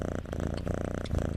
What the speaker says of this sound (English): That does sound like him purring.